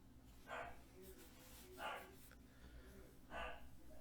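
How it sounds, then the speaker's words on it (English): A dog barks in the distance during a listening party, three faint, evenly spaced barks about a second and a half apart over a low background hum. "The dog is going nuts right now."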